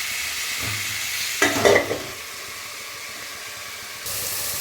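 Soybean chunks frying in a pan, a steady close hiss of oil with a brief louder burst of sizzling and stirring partway through before settling back to a softer continuous fry.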